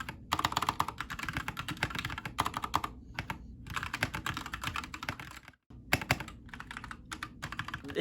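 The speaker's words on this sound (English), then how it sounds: "people say it's kind of loud and they can hear me typing" Fast, steady typing on a Keychron K4 mechanical keyboard, close and fairly loud, with dense clacking keystrokes, a few brief pauses and no talking.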